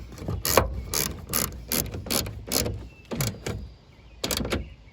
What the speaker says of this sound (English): You can see I'm just using a small ratchet.